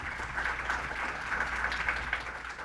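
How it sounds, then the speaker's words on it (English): An audience at a peace conference applauds, a soft, even wash of many hands clapping that stays steady and fairly distant throughout, with no voices over it. "Let us give a round of applause for Secretary General of the U.S. Council of Muslim Organizations, Osama Jamal."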